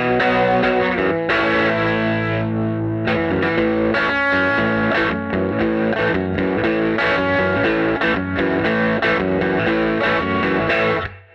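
Electric guitar run through distortion and chorus effects plays a part of a song, a dense, sustained, driving passage that is loud and continuous and fades out at the end.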